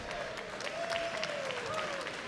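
A capacity crowd at a TNA wrestling match in New York applauds and cheers steadily throughout, with a commentator talking over the noise.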